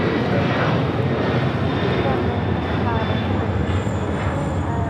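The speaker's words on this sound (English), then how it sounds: "7552 taking off to Honolulu on a 747-400 freighter." A Qantas Freight Boeing 747-400 freighter roars down the runway on takeoff at LAX, a loud, dense, steady engine rumble and hiss heard from the airport, with a voice talking over it.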